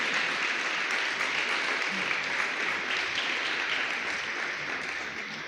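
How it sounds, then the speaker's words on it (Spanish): Church congregation applauding during a Spanish-language sermon, a steady, dense wash of clapping that fills the room and holds evenly before tapering slightly at the end. "Dale un fuerte aplauso al Señor si te sientes amado por Él."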